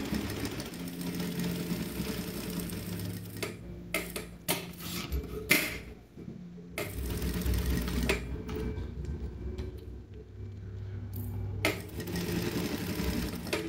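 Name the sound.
sewing machine stitching the tip of a toiletry bag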